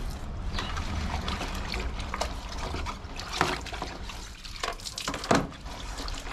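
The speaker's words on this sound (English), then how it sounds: "Rinsed with the soapy water." Soapy water trickles and splashes as the inside of a hiking backpack is rinsed by hand, a steady wet dribble with a few louder sloshes near the end.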